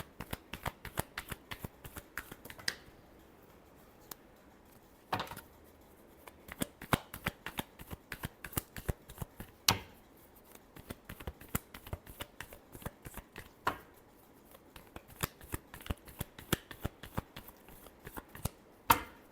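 Tarot cards being shuffled by hand, a long run of soft, quick riffling flicks and taps at close range, steady and fairly quiet, with no talk.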